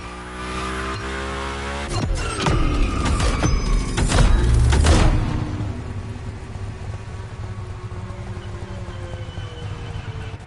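A V8 Mustang race car in The Crew Motorfest roars up close with a surge of revving and a burst of squealing tires, then settles back to a steadier engine drone.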